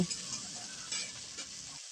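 Spice paste is added to boiled tomatoes in a hot pan for a fish curry, giving a steady close sizzle with stirring scrapes throughout, loud and continuous with no talk.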